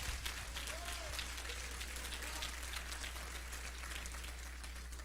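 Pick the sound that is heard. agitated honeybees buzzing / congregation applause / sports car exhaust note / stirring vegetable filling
congregation applause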